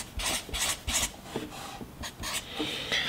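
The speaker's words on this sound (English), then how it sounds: "the way you get rid of that is with 3000 grit sandpaper" Fine 3000 grit sandpaper rubs back and forth over car paint in short rhythmic strokes, a soft raspy scratching repeated about a dozen times up close.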